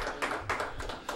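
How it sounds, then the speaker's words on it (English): Small children clapping in a studio audience, a light, scattered patter of hands in a few uneven bursts, quiet and fairly close. "They love applauding, you know."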